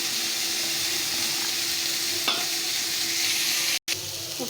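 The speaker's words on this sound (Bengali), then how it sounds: "উচ্ছে আলুটা ভালো করে ভাজা ভাজা হয়ে গেছে।" Bitter gourd and potato pieces fry in a pan, a steady loud sizzle running throughout with a brief stir scrape partway and a momentary dropout near the end.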